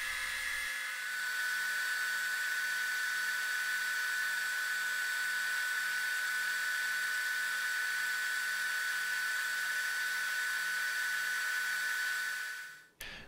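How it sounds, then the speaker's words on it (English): Disc sander whirring steadily while shaping a wooden popper fishing lure, a loud continuous high whine that holds nearly unchanged for over twelve seconds before spinning down at the end. "it would be easiest to actually use my disc sander for this job"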